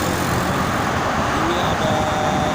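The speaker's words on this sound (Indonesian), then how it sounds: "Ini bus lintas Sumatera lagi." A Trans-Sumatra bus passes on a Jakarta toll road in the morning, heard as a steady, fairly loud rumble of road traffic and tyre noise with no distinct break and no talking.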